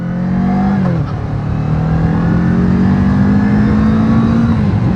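A small 300 motorcycle accelerating on the street, its engine note climbing steadily, dipping briefly during a gear change and then rising again, loud and close with no talking.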